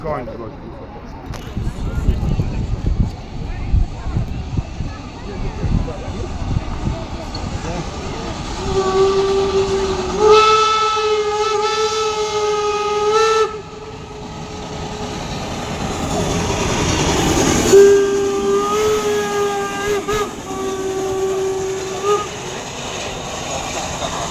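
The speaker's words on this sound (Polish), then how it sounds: "pierwszy uczestnik tegorocznej parady, czyli parowóz Energy 507 z Luksemburga" Steam locomotive Energy 507 from Luxembourg approaches during a steam locomotive parade, its whistle sounding in long sustained blasts over the steady chuff and rumble of the moving train, loud and close.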